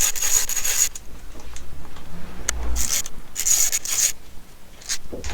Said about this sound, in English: it is a E8 inverted Torx bit, so we'll go ahead, take off our fuel rail screws